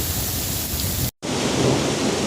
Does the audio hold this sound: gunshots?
no